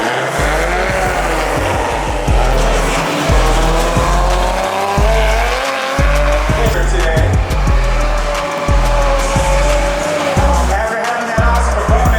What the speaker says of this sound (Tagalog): watch cars go sideways today